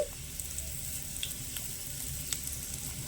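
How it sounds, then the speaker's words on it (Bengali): Panch phoron, bay leaf, dried chilli and a pinch of hing sizzle in hot mustard oil, a steady soft frying crackle with occasional sharper pops, close and alone. "তেল গরম হয়ে গেলে হাফ টেবিল চামচ দিয়ে দিচ্ছি পাঁচ ফোড়ন তেজপাতা শুকনো লঙ্কা সামান্য একটু হিং"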